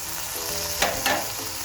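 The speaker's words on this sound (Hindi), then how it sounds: "अदरक का पाउडर, लहसुन का पाउडर, इसको हम फ्राई करेंगे थोड़ा सा।" Ginger and garlic powder frying in a pan, a steady close sizzle with a couple of brief stirring scrapes.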